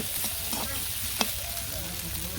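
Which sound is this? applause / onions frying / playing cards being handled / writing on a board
onions frying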